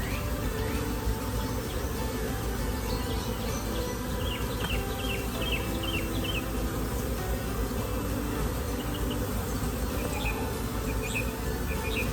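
Honeybees swarm and drone at an open beehive, a dense, continuous buzzing that fills the air close by, with occasional faint bird chirps threading through the hum.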